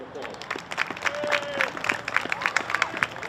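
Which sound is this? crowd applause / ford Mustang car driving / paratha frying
crowd applause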